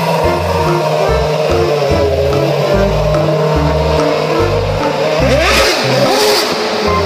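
A toy F1 race car plays a loud, buzzy engine revving sound with stepped, rising pitch pulses and a final rev-up sweep, heard on its own.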